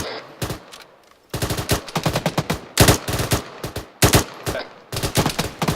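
Bursts of automatic rifle fire in ArmA 3 during a military infantry training exercise, loud rapid volleys in repeated clusters separated by short gaps, with no talking.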